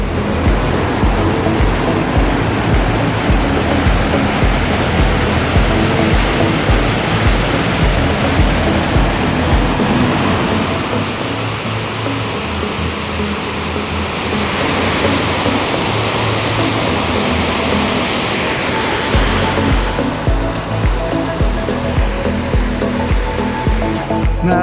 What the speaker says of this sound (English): The trail brought me to Little Firehole River just above the falls